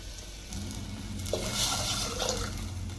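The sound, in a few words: water poured into clay cooking pot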